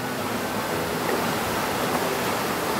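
A river in Tuscany, Italy rushes past close by in a steady, full roar of flowing water, constant from start to finish with no voices over it.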